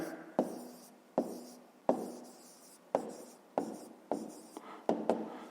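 A pen or pencil writes out a maths answer on paper in a quiet room, with close, faint scratching strokes broken by sharp taps and short pauses, about eight strokes in a row.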